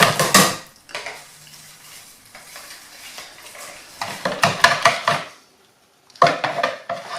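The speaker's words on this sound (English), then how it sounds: "I'm just going to whisk this a bit, because I need to make sure I don't have any lumps in here" Crumpet batter is whisked in a bowl, with close, uneven bursts of clattering and scraping against the sides, a quieter stretch in between, and a short silence before a final flurry.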